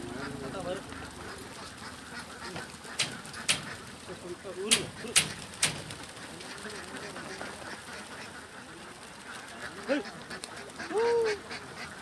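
Two thousand ducks are let out into a paddy field, scattered quacks and honks over a busy background, with people talking nearby.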